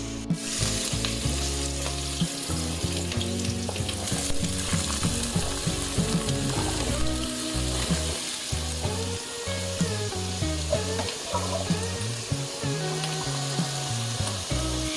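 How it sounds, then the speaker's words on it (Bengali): Potatoes fry in hot oil, producing a loud, dense sizzle that crackles and bubbles steadily and close up for the whole stretch, with occasional stirring and no speech. "এদিকে আমার আলু ভাজার তেল গরম হয়ে গেছে"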